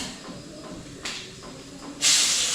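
Chopped small shallots drop into hot oil with mustard seeds for a wheat dosa topping, and a sudden loud hiss of sizzling bursts out after a quieter low background.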